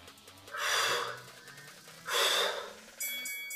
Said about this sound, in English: I'm really exaggerating my breathing